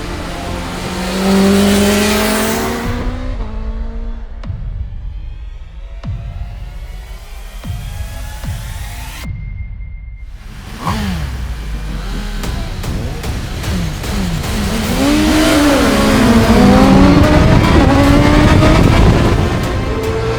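Superbikes on a race track, a Suzuki GSX-R1000R in 40th anniversary paint, a Kawasaki ZX-10R and a BMW S1000RR: high-revving engines scream past, with gear changes, a lull, then rising acceleration building loudly toward the end.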